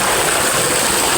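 Water gushing from a tubewell pipe, a loud steady broadband rush close by with no breaks and no voices.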